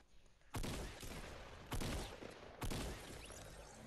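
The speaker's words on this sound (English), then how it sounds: "he's shooting me!" Three loud bursts of rapid gunfire in Fortnite Battle Royale, each a sharp crack followed by rattling decay, spaced about a second apart and close by.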